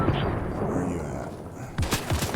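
Video game gunfire from a minigun and a rocket launcher. A dense rumble of shots runs under the mix, and a few sharper bursts come near the end.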